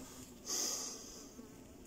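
Honeybees at a top bar hive give a steady, close buzz with a louder, brighter swell in the middle, then settle back to a continuous hum.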